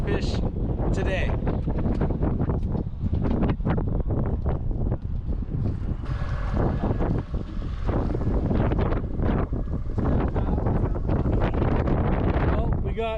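Steady, loud wind buffets the microphone on Donner Lake near Lake Tahoe during salmon fishing from a boat, roaring continuously with gusts and water slaps throughout.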